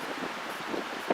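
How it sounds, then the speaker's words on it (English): Gusty wind buffets the microphone outdoors at a shed build site, a steady low rushing roar with a brief louder gust near the end. "it's a little windy out here today"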